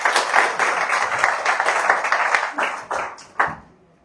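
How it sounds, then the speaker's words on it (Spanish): A church congregation at a Sunday service in Casa de Fe Chihuahua claps for the musician, moderately loud uneven applause that fades out near the end, with a last few scattered claps. "Un aplauso para David."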